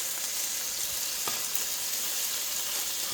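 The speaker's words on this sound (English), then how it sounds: "Just keep on turning, flipping them around." Pork pieces for adobo sizzle steadily in a hot pan as they are turned and browned, a continuous close crackling hiss with a brief scrape partway through.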